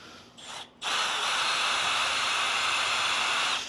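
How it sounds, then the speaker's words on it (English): A power drill whirs steadily and loudly up close after a brief start-stop, then bores continuously for several seconds through a kayak seat. "this probably isn't a good thing drilling right towards me"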